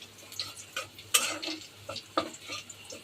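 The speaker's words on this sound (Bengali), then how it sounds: "এখানে একটু রসুন ভেজে নিলাম" Garlic fries in a pan at night in a home kitchen, a soft sizzle broken by intermittent scrapes and taps of a spoon stirring, with one sharper clink partway through.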